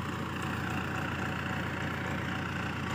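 A tractor engine idles on a village farm in Pakistan, a steady, unbroken low rumble that stays close and even throughout with no voices over it.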